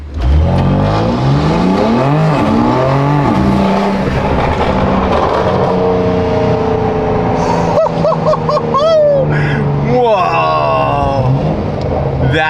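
BMW M4 Competition fitted with a catless downpipe, its exhaust valves open, pulling hard under acceleration with a loud, continuous rising engine drone and gear changes, while people talk over it.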